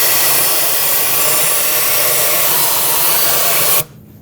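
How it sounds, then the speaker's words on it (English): A shop vacuum runs loud and steady, sucking up dirt around the intake manifold area of a 2011-2018 Volkswagen Jetta 2.0L TDI engine, then cuts off abruptly near the end. "I'm just going to use a vacuum, just vacuum some of this up"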